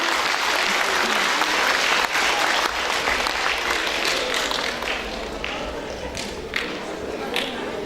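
Audience applause at a ceremony, sustained crowd clapping throughout, loud at first and easing slightly as it goes on, with a voice speaking over it.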